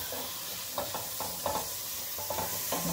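Asparagus sizzling in butter in a frying pan, with a steady hiss and a few soft clatters as it is stirred or flipped; no talking.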